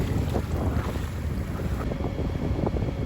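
A small boat crosses open sea in the Pentland Firth near Noss Head, with steady, loud wind buffeting the microphone and water rushing past the hull throughout.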